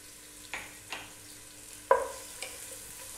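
Garlic sautés in hot oil in a cooking pot, a soft steady sizzle broken by four stirring scrapes of a utensil, close and fairly quiet, with no talking.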